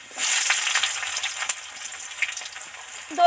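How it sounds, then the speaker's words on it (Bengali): Large pieces of onion frying in hot oil for snake gourd dopiaza, a steady close sizzle with small crackles and pops throughout. "এই যে বড় বড় পেঁয়াজের টুকরো কটা এর মধ্যে দিয়ে দেবো"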